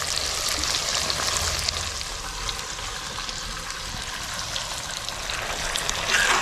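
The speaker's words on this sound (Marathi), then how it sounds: "आता मस्त असं तेलात हे परतवून घ्यायचं सगळं" Chicken pieces sautéing in oil in a pan without added water give a continuous soft crackle and sizzle, steady and moderately close, with faint stirring and no voices.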